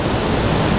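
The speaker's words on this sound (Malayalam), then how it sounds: "പാറക്കല്ലിൽ കൂടെ ഒലിച്ചിറങ്ങുന്ന വെള്ളച്ചാട്ടം കാണാം." Water from a waterfall on the Bharathapuzha in Kerala spills over rocks, making a loud, steady, close rushing roar with no voices.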